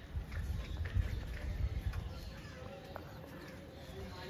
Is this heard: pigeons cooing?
yes